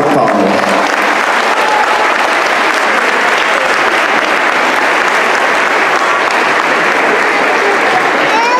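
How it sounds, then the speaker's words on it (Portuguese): Loud, sustained applause from a school audience at a Christmas celebration, a thick wall of clapping that holds steady for several seconds, with faint crowd voices beneath. "Parabéns a todos e uma grande salva de palmas"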